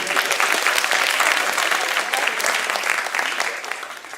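Audience applause at a school poetry recitation finals, steady dense clapping held for about four seconds and tapering slightly at the end.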